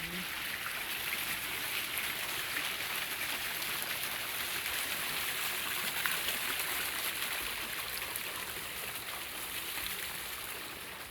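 A water fountain splashing outdoors at a forest viewpoint, a steady, soft hiss of falling water that runs continuously without change.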